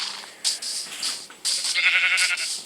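Several short, nasal bleats from a goat, fairly close and clear, coming in quick bursts with brief pauses between them and no talking.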